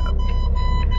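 A diesel truck engine turns over on a cold winter morning at minus 12 degrees, a steady low rumble with a faint rhythmic pulse that runs loud and close for the whole short stretch.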